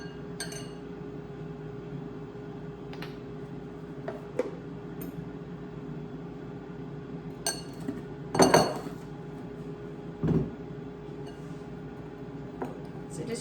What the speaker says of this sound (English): So just using your fork, we're just going to mash it around like this and continue to incorporate it with the dry ingredients.